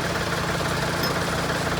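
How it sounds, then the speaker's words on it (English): A tractor engine runs steadily at a grading site by a pond, a close, even mechanical drone with a faint knocking pulse and no voices. "Switching a piece of tractor equipment here."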